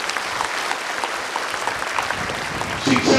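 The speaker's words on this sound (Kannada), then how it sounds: "ಅವರಿಗೆ ದೊಡ್ಡ ಚಪ್ಪಾಳೆಯನ್ನ ನೀವು ಹೊಡಿಬೇಕು" An audience at a student merit award ceremony in Mandya claps together, a steady even patter of many hands that swells slightly at the end.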